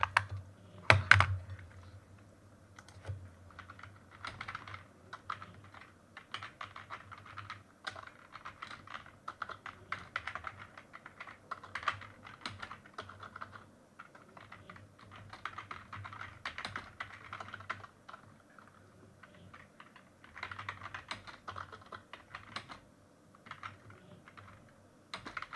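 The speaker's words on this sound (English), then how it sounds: "Let me just wipe my hands a bit before I touch my keyboard." Steady, fast typing on a computer keyboard, with continuous clattering keystrokes in uneven bursts across the whole stretch, close and clear with no talk.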